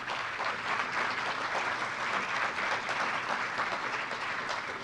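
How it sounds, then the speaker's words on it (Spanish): A conference audience gives a sustained round of applause, a dense, steady wash of many hands clapping that holds at an even level for about five seconds without a break. "a quien recibimos con un fuerte aplauso"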